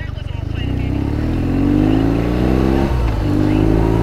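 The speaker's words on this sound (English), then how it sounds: "You can hear how quick it revs, and just wants to get up into those gears real quick." A 2022 BMW R nineT motorcycle engine revs up quickly while accelerating through the gears, a steady, loud, near drone with rising pitch, a brief dip near the three-second mark, then climbing again.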